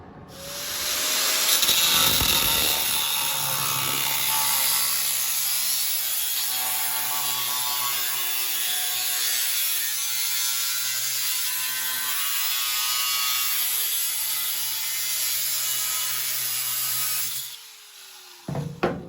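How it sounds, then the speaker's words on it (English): Steady, loud grinding whine of a cutting tool working around a rusty wheel well patch on a 1969 Road Runner, holding for about fifteen seconds before spinning down, with a few clicks at the end. "I cut around this whole patch just so I can kind of expose some of it"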